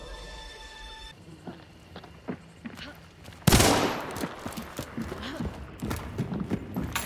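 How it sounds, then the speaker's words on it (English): Machine gun fire from the video game Hunt: Showdown erupts in a loud, dense burst midway, then continues as scattered rapid shots, with voices talking throughout. "Now I have a machine gun."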